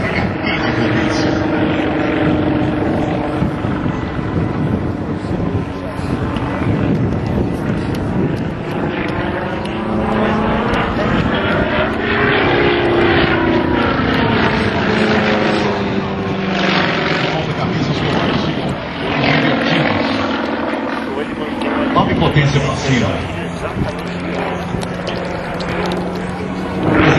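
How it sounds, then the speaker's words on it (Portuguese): A Sukhoi SU-31 aerobatic plane with a 360 hp nine-cylinder radial engine roars loudly and continuously during an air show, its pitch rising and falling through manoeuvres while a commentator talks over it. "Motorzão radial, 9 cilindros de 360 HP de potência."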